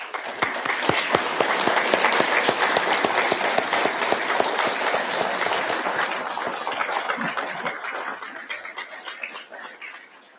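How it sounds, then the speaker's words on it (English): An audience claps for physical therapist assistant graduates at a pinning ceremony, a dense, steady round of applause that holds strong for about eight seconds before thinning and fading out at the end. "I want to take a moment here to applaud them as well"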